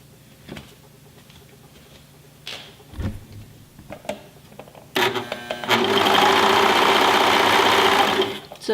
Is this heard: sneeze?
no